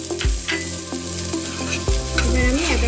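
Chopped chilies added to frying capsicum and onion in a pan, a loud continuous sizzle with repeated clanks and scrapes of a stirring spoon.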